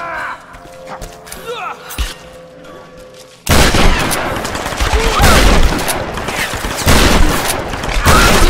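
Gunfire aimed at the player in the Tomb Raider video game, a sustained, loud barrage of rapid shots and impacts that bursts in after a quieter stretch of ambient game sounds, continuing densely to the end.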